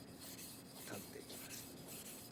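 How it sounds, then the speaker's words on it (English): A Japanese kitchen knife being sharpened along its shinogi line on The Chef's Edge, giving a steady, soft rasping rub that continues evenly throughout at low volume. "sharpen the shinogi line until you feel a clearly defined angle"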